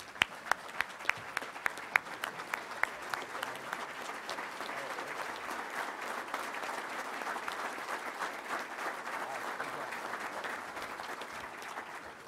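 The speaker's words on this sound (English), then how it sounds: "Let's give him a round of applause." A crowd applauds steadily at a touchdown club meeting in Little Rock, a dense wash of clapping that starts with a few sharp individual claps and holds at an even level.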